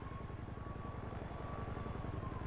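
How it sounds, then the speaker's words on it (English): A helicopter in a police roleplay video game on a mountain trail gives a steady, fairly loud rhythmic rotor chop with an engine whine that runs without a break. "Oh good, it's the helicopter."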